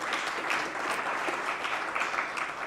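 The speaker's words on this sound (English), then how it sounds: "Another round of applause" Steady, dense applause from a crowd at a university research and innovation festival, even and continuous with no voices over it.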